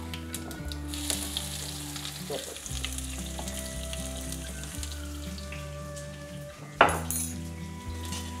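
Mustard seeds and cumin crackle and sizzle in hot oil with a steady frying hiss, a few utensil clinks and a sharper pop or clatter near the end; no one speaks.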